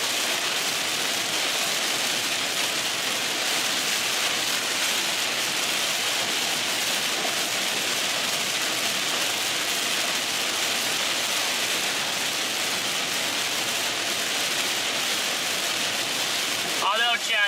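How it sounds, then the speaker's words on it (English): Steady, dense rain drums on a vehicle during a Texas storm chase, a loud and unbroken hiss that holds the same level throughout. "then we'll just be in light rain"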